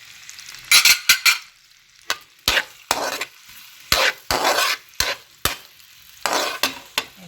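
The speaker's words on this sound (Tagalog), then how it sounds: "kahit hindi pa siya masyadong tunaw, ihulog nyo yung sibuyas" Onion dropped into partly melted butter in a pan for veggie fried rice, sizzling in repeated bursts as it is stirred and tossed, with quieter gaps between strokes; close and fairly loud, no talking.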